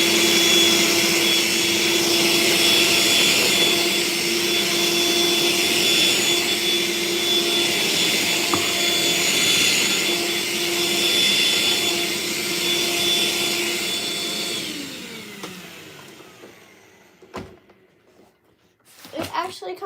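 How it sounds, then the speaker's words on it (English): A budget vacuum cleaner drones loudly and steadily while sucking up a crunchy mess on a bedroom floor, then switches off and winds down, leaving a few faint knocks and handling sounds. "I feel like this vacuum is just gonna like fall apart because it's not the best"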